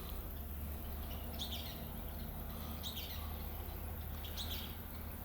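Birds give short, sharp chirping calls in the early-morning dark, three brief bursts spaced about 1.5 seconds apart, fairly distant over a steady low background hum.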